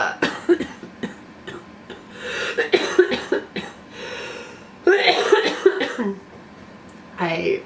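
Someone coughs in several harsh bursts, close to the listener, with short pauses and a throat clearing between the fits, during the first week on Orkambi cystic fibrosis medication.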